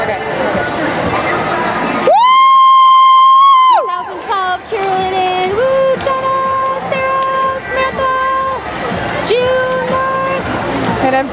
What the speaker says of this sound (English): Obnoxious moms yelling out the top.